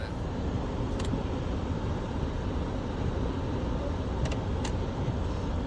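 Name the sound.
2006 Range Rover L322 engine idling while warming up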